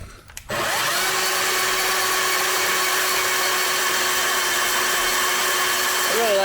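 A power tool starts with a click and then roars steadily and loudly, cutting the ends off a suspension bar for a budget racing four-link rear suspension, its whine holding a constant pitch throughout.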